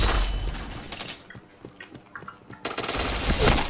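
Rapid automatic gunfire in the shooter game Point Blank, loud close bursts of shots, then a brief lull of scattered clicks and tones before another heavy volley.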